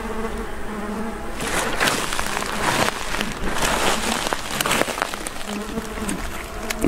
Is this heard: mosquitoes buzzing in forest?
yes